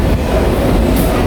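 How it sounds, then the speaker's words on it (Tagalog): A Korean subway train rolling along the rails with a loud, steady rumble throughout, mixed with rail noise and a faint high squeal near the end, and no voices. "So palabas na tayo ng subway."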